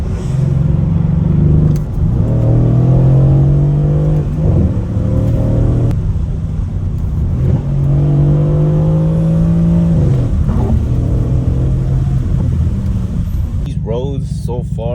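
Mercedes-AMG biturbo V8 car in Sport Plus mode accelerating hard through repeated gear pulls on Las Vegas roads, a loud, close engine roar rising in pitch, dropping at shifts, then climbing again, with a brief rumble at the end.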